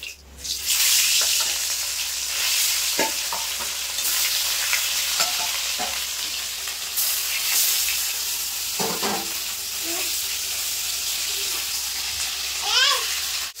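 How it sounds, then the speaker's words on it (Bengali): Rohu fish pieces fry in hot oil in a pan, a steady dense sizzle with occasional spatula knocks and pops, while faint voices talk in the background. "একইভাবে বাকি মাছগুলো ভেজে নেব।"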